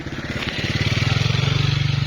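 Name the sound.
motorcycle approaching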